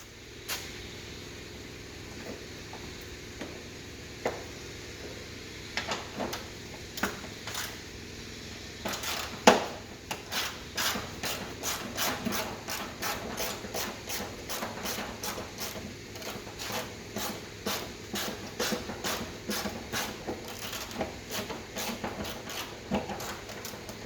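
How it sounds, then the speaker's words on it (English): A small 10mm socket works a bolt on an Alfa Romeo Giulietta's front wing, giving sparse clicks at first and then a quick run of sharp, evenly spaced ratcheting ticks, close by with no speech. "you can just about get in there with a small 10mm socket"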